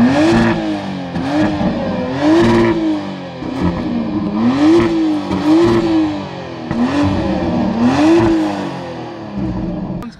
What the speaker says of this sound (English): I want to give you guys a few revs just so you can hear what this car sounds like